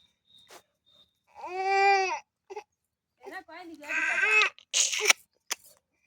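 A baby crying during a first head shave, a loud sustained wail followed by choppy sobbing cries in short bursts, with adults talking around it close by.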